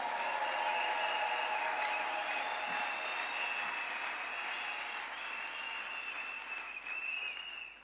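A church congregation applauding, a sustained dense clapping that carries on steadily and fades slightly toward the end.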